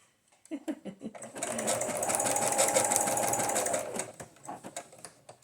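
A sewing machine stitches through paper for a junk journal, opening with a few slow clicks, then running loud and steady for about two and a half seconds before slowing to separate clicks again, all close up.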